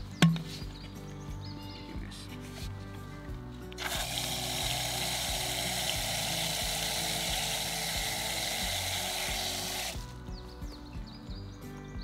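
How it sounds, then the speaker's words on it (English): Water runs from a tap into a spray bottle for a Castile soap bug spray, a steady hissing rush lasting about six seconds over quiet background hum, close and moderately loud. "fill it up with water"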